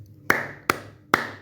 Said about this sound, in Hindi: तालियां बजाती हुई मैना आ जाती है